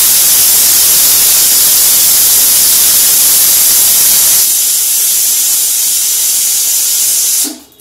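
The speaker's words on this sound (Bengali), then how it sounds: "এখানে ঈশানের আপেল সেদ্ধ হচ্ছে" Apples boiling in a pot on a home stove, a loud, steady hissing rush of steam that drops in level partway through and then cuts off abruptly at the end.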